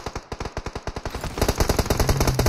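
Rapid automatic gunfire in the shooter game PUBG Mobile, a fast rhythmic burst of shots, then a second denser burst that grows louder and fuller, close and punchy with no talk.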